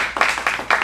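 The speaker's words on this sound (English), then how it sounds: "So give your audience a round of applause" Brief bursts of clapping from a small studio audience at an adult acting showcase, three short rising swells of hand claps in under a second, fairly close and moderately loud.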